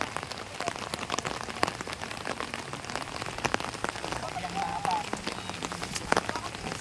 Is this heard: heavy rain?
yes